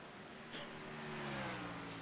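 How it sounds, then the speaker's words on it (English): Race cars trickling past on a circuit near the start-finish line, a steady engine drone with rising and falling pitch lines as cars pass at moderate distance, no voices. "As a few cars trickle by."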